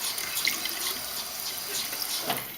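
Tap water runs steadily over an etched glass plate while the paper backing is rubbed off by hand, a continuous close splashing hiss with faint scraping, and nobody speaks.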